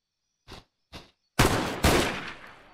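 Gunfire aimed at an enemy in the VR video game PunjiVR: two short, crisp shots, then two heavier blasts that ring out and decay, loud and close, with no voices.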